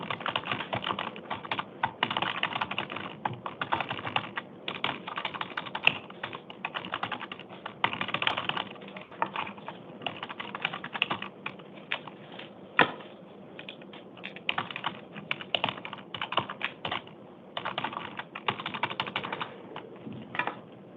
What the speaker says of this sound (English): I need to type this.